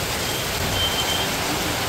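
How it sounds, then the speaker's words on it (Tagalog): Heavy rain pouring down at an outdoor family birthday gathering in the Philippines, a dense, steady hiss of water with no voices. "bumuhos na po ang ulan."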